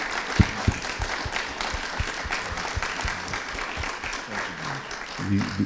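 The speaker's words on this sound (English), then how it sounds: "Can we please give Harvey a round of applause?" Live audience at a podcast recording claps steadily for a guest, a sustained rattle of many hands with a few sharper claps near the start and a brief rise at the end.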